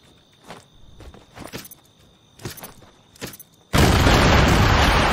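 A house blown up in a video game: a few light shuffling thuds and clicks, then a sudden loud blast that settles into a dense, sustained roar to the end.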